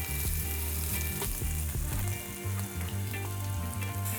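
Sliced red onions fry in hot oil with a loud, dense, continuous sizzle and crackle, close up and alone, as the base for a mutton pulao.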